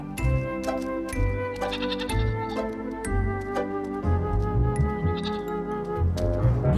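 A lamb bleats repeatedly at a riverside, the calls rising over a steady layer of harmonic background tones that runs throughout.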